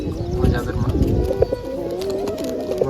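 Domestic pigeons, including pure white ones, kept indoors, give repeated low throaty coos close by, with a faint chirp mixed in and someone talking over them.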